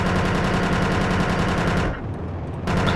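Helicopter gunner's cannon in Project Reality firing a loud, sustained rapid burst of closely packed rounds, cutting off briefly near the end before resuming.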